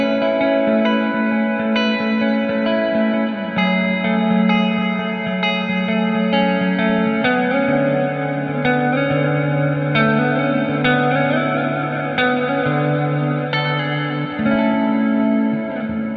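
Sustained electric guitar chords ring out with a washy reverb tail, notes blending and lingering as they change, steady and fairly loud.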